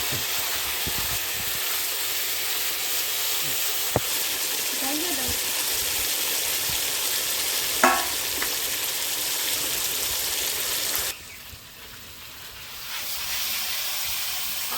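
Hilsa fish fry in oil in a pan with a steady, loud hiss and sizzle that runs for a long stretch, broken by a few small clinks, then briefly drops away before returning.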